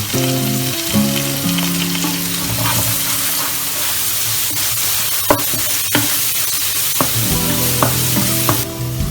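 Green chillies and curry leaves fry in hot oil with a loud, dense crackling sizzle that runs throughout, punctuated by a few sharp pops and utensil knocks, close up and with no voices.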